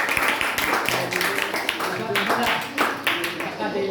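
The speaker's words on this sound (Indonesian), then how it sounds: "beri tepuk tangan yang meriah untuk kita semua" Clapping from the audience at a Quran quiz competition held at an Islamic senior high school, a lively patter of hands mixed with voices talking over it.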